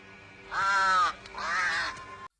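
A crow in an anime episode caws twice in succession, two loud harsh drawn-out calls close by, with no talk over them.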